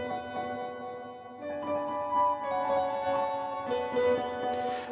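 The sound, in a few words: offbeat keys pattern in a trap beat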